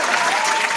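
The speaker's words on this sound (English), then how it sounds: "Round of applause for the demos." Applause from a crowd fills a brief, steady burst of dense clapping, loud and close.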